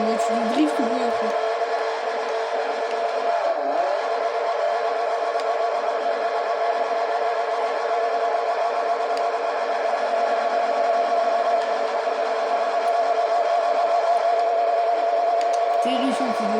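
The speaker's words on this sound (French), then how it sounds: "mais c'est une voiture de drift ou quoi après?" A drift car's engine in a video game, switched to four-wheel drive, holds a steady loud droning rev throughout, running continuously with little change in pitch.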